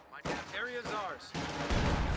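Video game crossfire from a multiplayer strategy match, a dense burst of gunshots and blasts sounding steadily loud throughout, layered under shouted in-game voice callouts.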